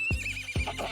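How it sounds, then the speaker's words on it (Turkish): A horse whinnies loudly and close, with a high, wavering neigh and two low snorts or hoof thumps underneath. "Horse."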